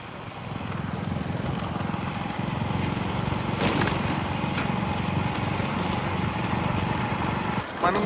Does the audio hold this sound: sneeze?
no